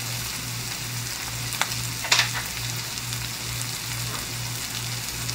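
Shredded cabbage cooking in a pan for Hawaiian-style corned beef and cabbage, a continuous close sizzle like light rain, with a couple of brief stirring scrapes partway through.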